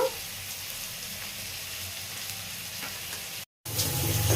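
Mixed vegetables frying in a pan with chilli powder and coriander powder, giving a close, steady hiss and sizzle that cuts out briefly near the end, then returns.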